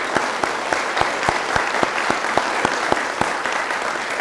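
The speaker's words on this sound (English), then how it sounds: "So let's just give that care team a round of applause." An audience applauds the care team at a launch event, a steady wash of many hands with a few sharp, rhythmic claps standing out clearly above it.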